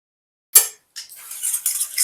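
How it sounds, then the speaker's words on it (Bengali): A spoon stirs beans, peas and tomato frying in a pan, starting with one sharp clink and then a run of scraping, sizzling stirs close by. "এটাকে নাড়িয়ে নেব।"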